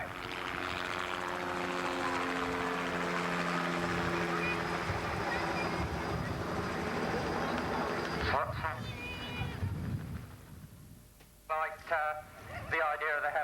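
A helicopter's loud, steady rotor drone fills most of the stretch, then fades as people begin talking nearby.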